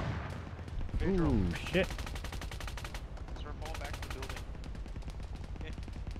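Bursts of gunfire ring out in a military shooter video game, sharp rapid volleys and scattered shots at varying distance, with players talking and exclaiming over them.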